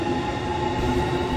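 A train in the video game Train Sim World rolls along with a loud, continuous rumble and a sustained tonal whine.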